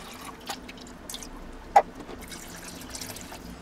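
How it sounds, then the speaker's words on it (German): Water drips through a filter during outdoor one-pot cooking: a few sparse, faint, close drops, one sharper than the rest, over a quiet background. "Das Wasser ist mittlerweile hier auch durchgelaufen,"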